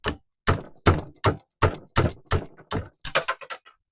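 Nine to ten sharp hammer blows in an uneven rhythm, close and loud, struck while tearing down an S-10 during a 350 engine swap, with the last few coming quicker and lighter.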